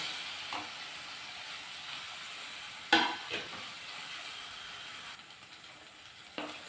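Onions and tomatoes sautéing in a pan for a mushroom curry give a soft, steady sizzle, broken by a few sharp clicks of stirring, with no voices.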